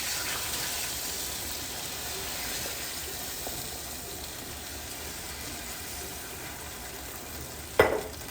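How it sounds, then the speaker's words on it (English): Stock poured into a pan of pork roast drippings for gravy, with a steady broadband sizzle and bubbling running throughout, then a sharp brief clatter near the end. "So I add my stock in now"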